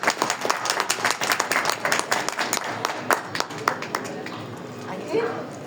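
Audience applause at a poetry reading at a municipal fair, a crowd clapping steadily for several seconds and tapering off, with a voice speaking over it.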